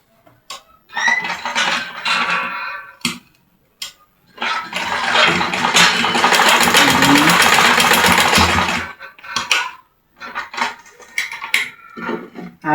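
A sewing machine stitches a shirt collar in several bursts, with one long whirring run in the middle and shorter stop-start stitches around it, loud and close with no one talking.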